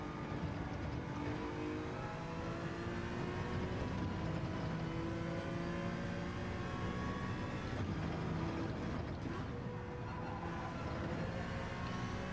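Mazda RX Vision race car in Gran Turismo 7, its engine droning loudly and steadily with rising and falling harmonic whine as it holds speed, close and continuous throughout.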